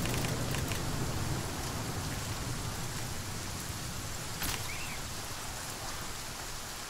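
Steady rain from the survival video game The Flame and The Flood, a constant broadband hiss with a brief brighter patter near the middle, fairly loud and unbroken, with no talking.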